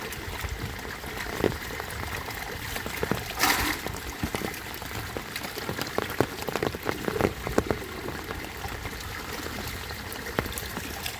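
Steady rain patters on surfaces and water in a village while fish are caught in a net, with scattered drips and splashes over a constant wash.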